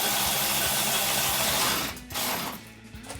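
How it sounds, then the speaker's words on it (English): Ratchet clicking as 10mm bolts are tightened into the upper grille brackets of a 2005-2011 Toyota Tacoma, a steady close buzz of pawl clicks that thins out and stops near the end. "Two 10mm bolts go back in up here in the top where you took them out."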